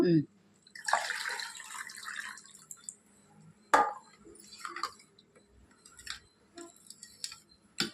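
Tamarind juice splashes and trickles into a pot in a few short bursts, with occasional clinks and faint voices in the background.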